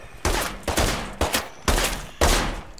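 Gunfire in a State of Decay 2 shootout against a zombie: five loud, close shots or short bursts in a rough rhythm, each one booming and ringing out before the next.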